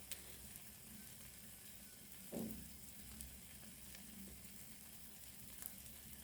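Beaten egg omelette cooking in a frying pan gives a soft, steady sizzle with a brief louder crackle partway through, quiet and with no voices.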